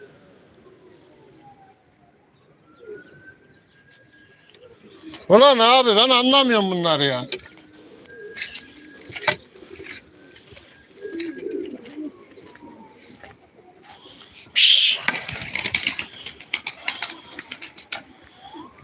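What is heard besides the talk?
birds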